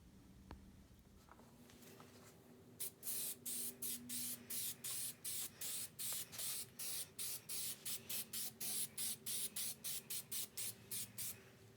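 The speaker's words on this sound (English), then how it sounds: "I'm going to be using some DupliColor Rust Fix just to see how well it will work." DupliColor Rust Fix aerosol paint sprayed onto a rusty fender of a 1965 Austin-Healey 3000, heard as about twenty short, loud hissing bursts in a quick, steady rhythm, close up, after a quiet start with no talking.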